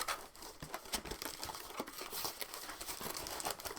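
Cardboard packaging around a Baoli concert ukulele being cut and pulled open, close up, with steady crinkling, scraping and tearing through the whole stretch, no talking.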